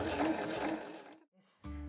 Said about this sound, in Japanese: 布を回転させて一度にね反対側も縫っていく方法です。